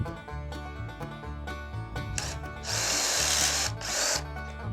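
A power drill bores a pocket hole through wood in a Kreg 320 jig, its motor whirring steadily in pulses, then a louder, rougher grinding burst as the bit cuts in, close and alone.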